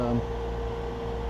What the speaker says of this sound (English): Generator's still going with the air conditioning